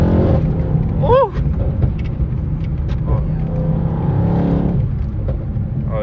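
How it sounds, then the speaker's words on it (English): A Stage 2 tuned Mercedes E63s V8 heard from inside during a drive, a deep steady engine rumble with a brief rising blip near the start like a downshift, people speaking over it. "look at these beautiful downshifts"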